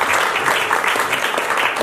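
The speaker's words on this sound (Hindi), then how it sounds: "एक बार जोर से तालियां बजा दीजिए इस पर" Steady applause from a theatre festival audience fills the short moment, dense clapping at an even level throughout.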